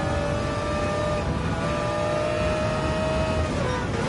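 Race car engines in Gran Turismo 7, including a Mercedes-Benz CLK LM and a McLaren F1 GTR BMW 1997, drone with a continuous loud whine and shifting pitch, without any break.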